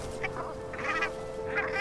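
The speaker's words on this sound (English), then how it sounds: "We've just come out to this lagoon and there are insane numbers of birds here." Pacific brant geese honk in a dense flock at a lagoon, with repeated overlapping calls at a moderate distance over a steady background murmur of many birds.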